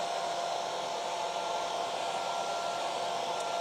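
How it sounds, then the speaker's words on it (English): Hair dryer blowing steadily to dry stencilled paint on a nativity set craft piece, a constant close whooshing roar that holds level throughout with no talk. "I might add a bit of dryer to that"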